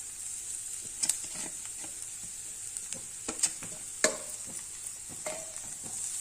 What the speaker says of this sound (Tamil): அதை இப்போ நம்ம கேரட்டு துருவலை இதில் சேர்த்துடலாம்.